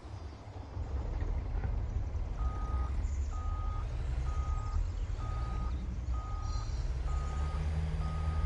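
Reversing beeps from a truck in Farming Simulator 19, a steady series of about seven evenly spaced electronic tones sounding over a loud, continuous low engine rumble.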